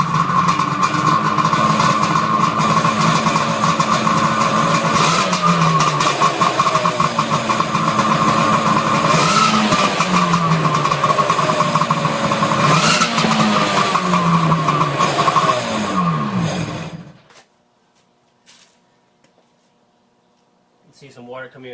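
A Sea-Doo personal watercraft engine runs loud and steady at close range while being winterized, holding an even rough roar for about fifteen seconds before shutting off into near silence.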